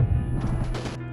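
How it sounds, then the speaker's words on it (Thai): Grenade explosion in the PUBG battle royale game, a single short crashing blast with a sharp burst and brief noisy tail, heard up close for about a second over a low game hum. "ระเบิดแล้วระเบิดแล้วเหรอ"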